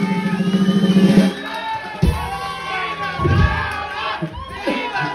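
A crowd at a costume contest in a karaoke bar patio in Chalco shouts and cheers loudly and continuously, with rising whoops and bursts of noisy voices throughout.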